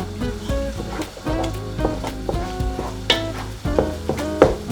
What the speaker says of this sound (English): Make sure you keep stirring this and breaking up that egg in there.